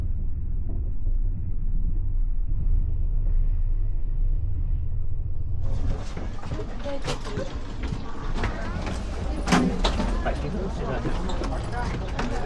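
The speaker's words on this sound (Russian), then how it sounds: "Это же машины." Cars passing on a road in Russia at night: a steady low rumble at first, then a louder, broader roar of traffic going by, with faint voices murmuring in the background.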